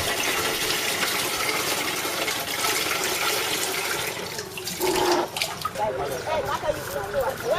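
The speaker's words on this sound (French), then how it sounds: "les enfants arrosent le jardin scolaire grâce à la pompe installée sur le puits de l'école" Water gushes steadily from a pump on a school well used to water a school garden, a loud continuous splashing flow that shifts toward the end, with a voice faintly present underneath.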